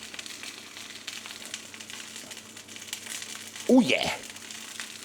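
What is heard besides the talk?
pork sausages browning in a pan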